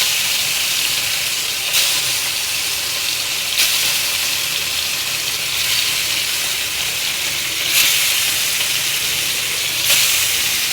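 Meat pieces fry in very hot oil, giving a loud, steady sizzling hiss that surges briefly every couple of seconds, close up and with no talking.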